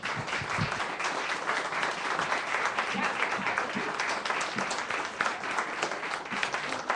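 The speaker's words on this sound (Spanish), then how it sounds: "Vamos a darle un aplauso al Señor" Church congregation clapping during a Spanish-language worship service, a sustained, evenly dense round of applause with faint voices beneath it.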